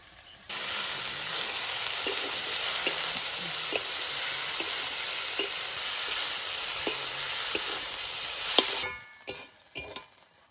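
Potato greens fry in hot oil in a pan with a loud, steady sizzle and occasional stirring clinks up close, before the frying stops and a few scattered knocks follow in a village outdoor kitchen.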